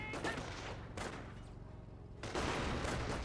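Rifle squad gunfire in the World War II strategy game Company of Heroes, heard as dense, overlapping bursts of shots and battle noise that swell, ease off, then surge again, fairly faint overall with no talking.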